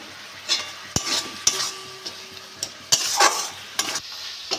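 Grated coconut with cane jaggery and cardamom is stirred in a pan, making close scraping strokes and soft sizzling with several sharp clacks of a utensil against the pan and no talking.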